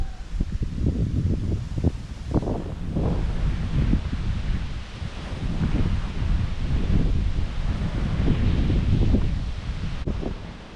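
Steady wind blows outdoors on a kayak fishing trip, a continuous gusting rush with rustling texture and microphone buffeting throughout, no talk.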